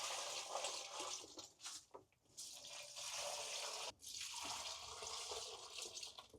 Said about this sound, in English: the last thing that I need to do is water them, so I might as well use this water first